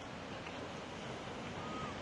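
Gentle waves lapping on a busy Benidorm beach, heard as a steady wash of surf and wind noise with no clear breaks, faint and continuous throughout.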